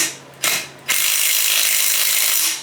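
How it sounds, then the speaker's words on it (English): A 3/8 inch drive impact wrench hammers at a bolt on a Briggs & Stratton OHV engine, two short bursts followed by a sustained loud, rapid rattling run up close with no talk. "I got my 3/8 inch drive impact wrench I'm going to try to use to take this off"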